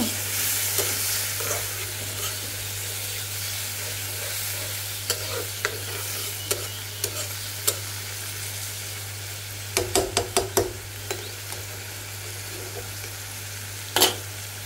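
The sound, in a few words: potatoes being stir-fried in a pan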